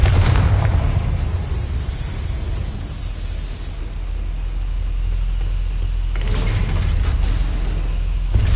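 A Confringo fire spell bursts in the game Hogwarts Legacy, a loud, sustained rumbling blast with deep low-end boom that swells again toward the end, heard up close with no voices.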